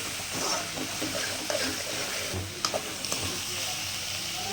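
Egg frying in hot oil in a pan makes a steady, close sizzling hiss with small pops and crackles scattered through it.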